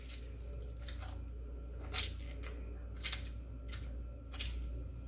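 Half a lemon is squeezed by hand over raw chicken pieces, giving soft wet squishing with a few brief crunchy squeezes over a steady low background hum.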